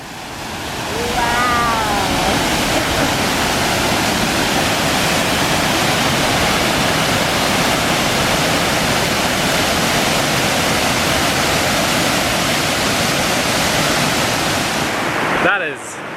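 Waterfall on the Snake River roaring close by, a steady, loud wash of rushing water that fills the whole clip without a break, with a brief human voice near the start.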